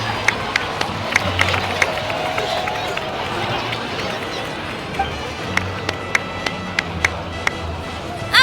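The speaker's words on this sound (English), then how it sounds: "please give another round of applause for them." Crowd applause and cheering in Genshin Impact during a Natlan celebration, a crowd clapping and cheering at moderate level, with sharp claps and other game sounds scattered through.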